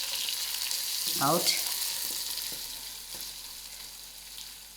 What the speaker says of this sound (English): I'll allow the cabbage to fry.